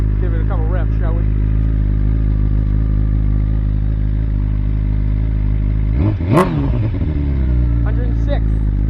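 A BMW S1000RR with Akrapovic headers and its stock muffler idles loudly and steadily, then a sharp rev climbs and falls around the six-second mark, followed by a smaller blip near the end.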